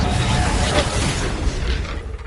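Confringo blasting spell in Hogwarts Legacy, a loud, noisy explosive burst with a broad rushing roar that swells briefly and fades over about two seconds.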